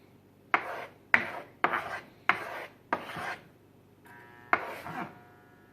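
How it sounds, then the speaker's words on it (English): Knife chopping mushrooms and onions on a board, six sharp, evenly spaced cuts with a short pause before the last pair, close and clear with no talk. "as I finish chopping up the mushrooms and the onions"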